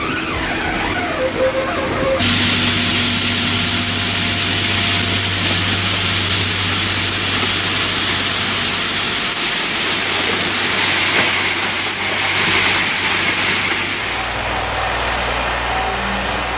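A railway ballast shifter, a track equalizer spreading grit along new track in the Netherlands, runs as loud, continuous heavy machinery with a deep droning engine and grinding rumble throughout, its pitch shifting slightly partway through.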